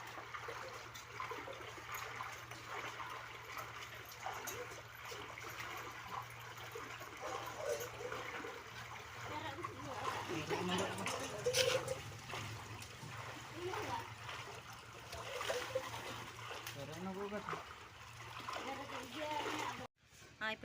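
Water poured over a newly built room to cure it, a continuous splashing and trickling wash close by, with people talking over it throughout.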